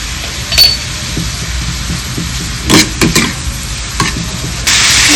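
Ginger garlic paste stirred into chicken frying in a pan, with a steady soft sizzle and a few sharp scraping bursts of the spoon against the pan, close and alone.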